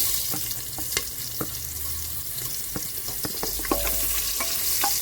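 Onions with bay leaves frying in oil in a pan, a steady close sizzle broken by sharp spatula scrapes and clacks against the pan, with no talking.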